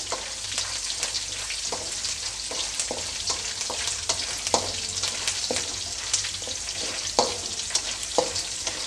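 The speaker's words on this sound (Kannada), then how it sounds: "ಬೆಳ್ಳುಳ್ಳಿನ ಹಾಕ್ಕೊಳ್ತಾ ಇದ್ದೀನಿ" Chopped garlic sizzles in hot oil, a steady bright crackle with occasional sharper pops and stirring clicks, close and alone without talk.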